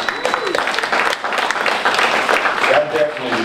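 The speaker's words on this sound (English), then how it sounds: "That definitely deserves applause." Town hall audience with a senator in Curry County breaks into brisk applause, dense clapping throughout with voices speaking over it.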